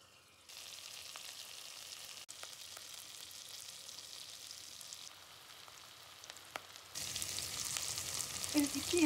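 About two tablespoons of butter sizzle and crackle steadily in a pot for bulgur pilaf, growing louder and busier toward the end, with no talking.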